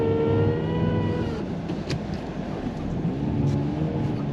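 A Honda Civic Type R FN2 engine revs hard and steadily while stuck in deep snow with traction control on, a loud, close, sustained high-rpm drone with slight pitch wavering.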